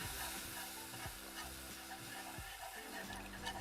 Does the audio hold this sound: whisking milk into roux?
yes